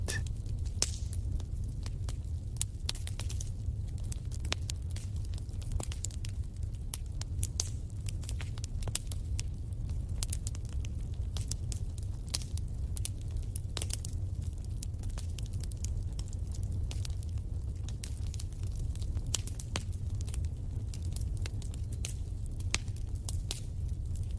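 A wood fire crackles and pops steadily, with dense irregular snaps over a low rumbling bed, close and even in level throughout, with no voices.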